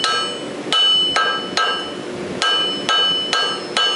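Ringing hammer blows strike a welded wire billet on an anvil to straighten it, seven sharp metallic hits in an uneven rhythm, loud and close with no talk.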